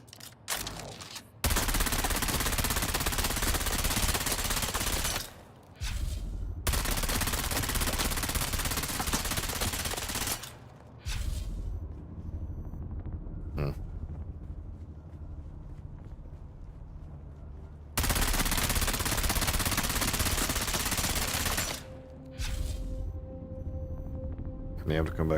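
Loud, sustained bursts of automatic gunfire in the video game Dune, several long volleys separated by short pauses, with quieter stretches of footsteps and ambient game noise between them.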